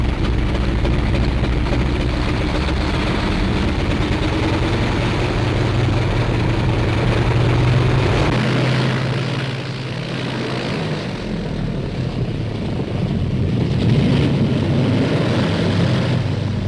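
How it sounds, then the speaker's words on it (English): A 1940s British propeller bomber roars loudly on takeoff, its engines droning steadily close by before the low rumble shifts and thins as the aircraft climbs away. "Here it comes, and the bomber is airborne."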